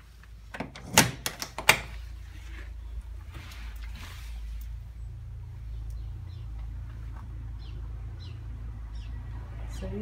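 A front door opening and closing while a dog is trained to walk on a lead: a few sharp clunks and knocks close by in the first two seconds, then a steady low rumble of background noise with faint chirps.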